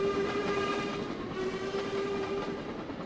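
A sustained steady steam whistle sounds from an LMS Coronation Scot locomotive in the Trainz game, loud and continuous over a constant rumble of the moving train.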